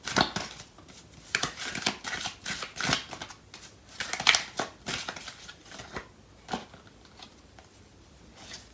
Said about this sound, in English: I'm going to pull out some more cards.